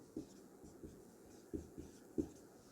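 Marker or chalk writing vector equations on a board, a soft series of irregular strokes and taps, fairly faint and close, with no talk over it.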